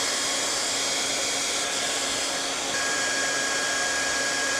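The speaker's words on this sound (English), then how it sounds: "I'm about to sit under the dryer and we gonna see." A hooded hair dryer runs steadily, giving an even, loud whooshing hiss with a faint motor whine and no breaks, with no talking over it.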